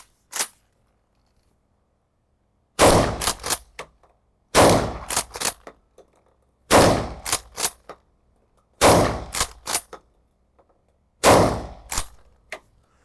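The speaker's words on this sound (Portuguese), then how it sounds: "Vamos recarregar, esqueci o bloqueio e vamos atirar de novo." Five loud, sharp blasts from a Hatsan Escort pump-action shotgun at a range, each shot followed by the quick clack of the pump being cycled, spaced about two seconds apart after a single earlier shot.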